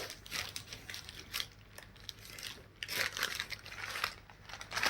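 A plastic bag used to hold makeup items is handled and crinkled, giving irregular rustling bursts throughout, fairly close and moderately quiet, with no talking.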